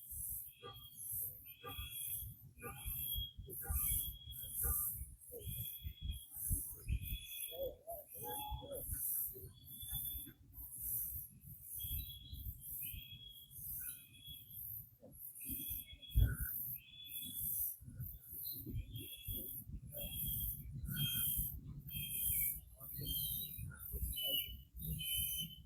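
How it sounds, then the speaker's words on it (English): Birds call outdoors by a fishing spot, with steady, repeated high chirps and tweets throughout, fairly close and lively, over faint rustling and low background noise, with no talking. "As if the birds aren't noisy enough."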